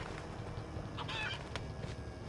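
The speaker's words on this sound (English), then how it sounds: "There's a bunch of chickens back here" Chickens cluck close by in the video game Sleeping Dogs, a few short bursts of clucking over a low background rumble.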